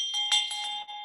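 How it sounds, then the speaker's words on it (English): Hand bell rung to open a potluck meeting, a bright metallic ringing with a few quick strokes blending into a sustained high tone over about a second, close and clear. "I ring the bell because each time we start the potluck, I always ring the bell."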